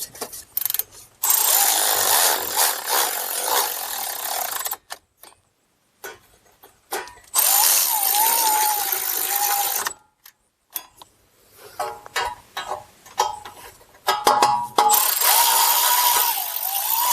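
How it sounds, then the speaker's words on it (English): A ratchet tightens a wheel speed sensor bolt on a Chrysler Town & Country during an ABS repair, giving bursts of rapid mechanical clicking that start and stop several times with short quiet gaps between them. "we'll get our ratchet and then we'll just gently tighten this up"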